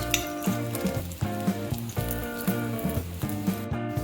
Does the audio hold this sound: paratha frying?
yes